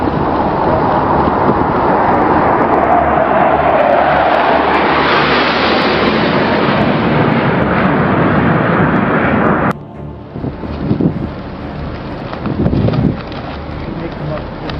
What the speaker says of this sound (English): Looks like you may come across the flight deck, coming in low, bridge wing level.